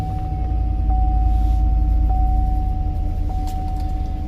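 A Chevy car engine with a chipped key runs steadily and close by, a loud low rumble with a faint whining tone, alone without talk.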